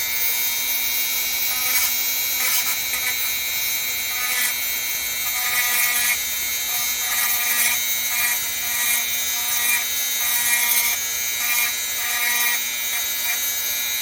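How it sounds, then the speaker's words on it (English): A small motorized rotary polishing tool works scratches out of vintage turquoise jewelry, a high buzzing whine that holds steady with repeated brief surges and dips as the piece is pressed and lifted, alone with no talking. "I'm gonna start polishing, getting all them scratches off"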